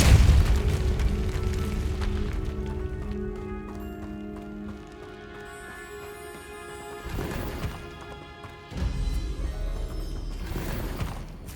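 Booming spell explosion from Hogwarts Legacy, a heavy low blast at the start followed by lingering rumble, with two further bursts of crackling impact later on, amid game music and no talk.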